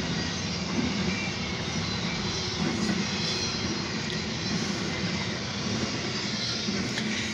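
A long Norfolk Southern intermodal freight train carrying many trailers rumbles past steadily heading east, a broad continuous roar of wheels and cars with no break, close and loud throughout.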